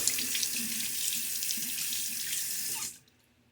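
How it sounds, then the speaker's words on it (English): A bathroom tap runs into the sink for a rinse after a shave, a close, steady hiss of flowing water that cuts off abruptly near the end, leaving quiet. "And now we will get a rinse"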